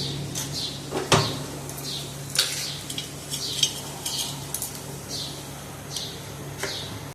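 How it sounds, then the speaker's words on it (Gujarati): Mustard seeds sizzle faintly in hot oil in a pan while cooking a Gujarati masala onion-potato dish, with a sharp clank and repeated stirring or scraping scrapes over a low, steady frying hiss. "હા, હવે આપણું તેલ આવવા લાગ્યું છે તો આપણે થોડીક એવી રાઈ નાખીશું"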